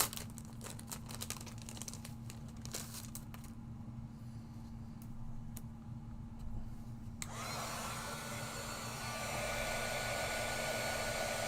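A heat tool switches on and blows steadily over stamping foam, a loud, even rushing hiss taking over after a stretch of quieter clicks and handling noises.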